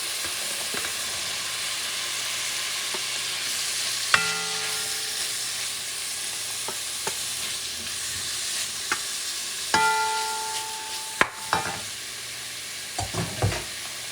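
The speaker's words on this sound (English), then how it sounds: "And I'm going to stir this and cook for a few minutes to coat the beans in that flavor" Cooked red beans being stirred in a hot pot for Haitian red beans and rice, a low quiet sizzle throughout with occasional sharp clinks and scrapes of a spoon, no talking.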